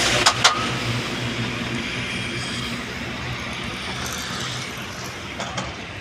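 Vehicles speed across a bus bridge over water, a steady close road rumble with a few sharp clicks near the start and no clear talk.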